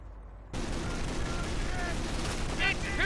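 Dense, continuous small-arms and machine-gun fire from a Company of Heroes battle with American armor forces, starting abruptly and roaring steadily, with sharp reports and soldiers' shouted voices mixed in.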